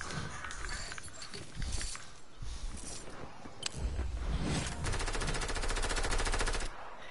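Rapid automatic gunfire rattles in bursts during an online shooter video game, dense and continuous with game ambience underneath.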